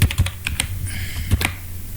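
Close, crisp keystrokes on a computer keyboard, a quick irregular run of clicks and taps lasting about two seconds, with no voice.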